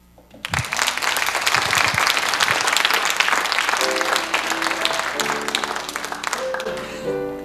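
An audience at a Sunday gathering bursts into sustained, dense applause that fills several seconds and then tapers off, with light music tones coming up underneath as the clapping fades.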